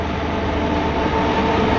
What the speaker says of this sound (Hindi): ये हमारी ट्रैक पे से आ रही है वैब 7 के साथ तेजस एक्सप्रेस।